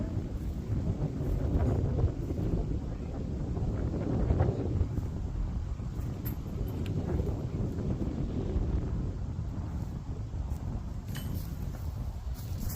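Wind gusts across an open disc golf course at Fehrenger Ranch in Lakewood, Colorado, making a steady, loud, low rumbling buffet against the microphone throughout, with no voices.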